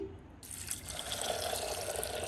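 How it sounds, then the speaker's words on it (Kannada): Water poured over soaked horse gram in a kitchen vessel, a steady close trickle and splash that starts abruptly and keeps running without a break. "ನೀರು ಸ್ವಲ್ಪ ಜಾಸ್ತಿನೇ ಹಾಕ್ಕೊಳ್ತೀನಿ"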